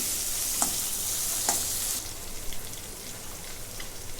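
Onion frying in a pan for potato-onion poha, a bright hissing sizzle with a couple of sharp clinks early on, then settling into quieter crackling and popping.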